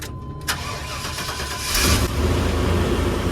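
V8 engine with a misfire cranking and catching after a sharp click, then settling into a rough, rumbling idle that swells louder partway through, close and without talk.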